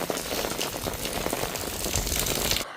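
Rain falling outside during the rainy season, a steady dense patter of drops hitting surfaces, continuous and fairly close, with no talking.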